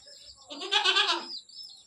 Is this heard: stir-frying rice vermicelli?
no